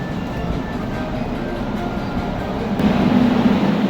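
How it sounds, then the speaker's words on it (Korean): Rail rumble of a Gyeonggang Line train pulling into Yeoju station, the line's terminus, a steady broadband roar that grows slightly louder near the end with no talk over it. "30분쯤을 달려서 열차의 종착역인 여주역에 도착합니다."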